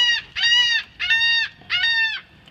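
Gulls give four loud, harsh, drawn-out calls close by during speckled trout filleting outdoors, each a strained cry with short gaps between them.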